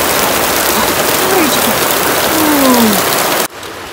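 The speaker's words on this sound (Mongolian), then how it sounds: "Ямар хүчтэй бороо олж байна. Мэдээ уусахгүй хүчтэй бороо олж байна." Heavy rain pours down in a loud, dense, unbroken hiss with faint voices underneath, then drops away abruptly just before the end.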